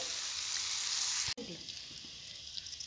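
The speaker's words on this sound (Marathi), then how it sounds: "हे अंडे आपल्याला ह्यामध्ये फोडून टाकून घ्यायचे" Eggs cracked into a hot pan of oil with red chili powder for egg bhurji, a steady loud sizzle that cuts off abruptly midway, then resumes quieter with small crackles and spattering pops.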